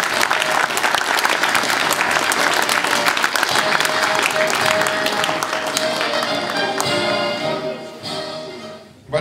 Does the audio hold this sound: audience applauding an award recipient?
yes